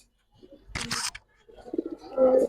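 Giribaz pigeons give low, soft coos close by, following a short sharp burst of noise, with a murmur of activity around them.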